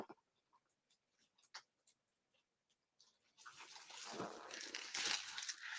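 Plastic padded flat rate mailer envelope being handled, a few light taps and rustles at first, then a sustained loud crinkling and crumpling of the poly material close to the microphone.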